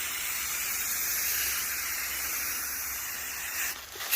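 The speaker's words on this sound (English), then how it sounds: "Trying to hold the camera and spray at the same time" Continuous pressurized spray hiss from casting material being sprayed onto an anthill, steady and close throughout with a slight change near the end.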